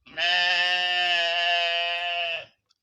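Single loud, close goat bleat, a sustained wavering nasal cry of about two seconds, heard alone at an outdoor gathering where livestock are kept.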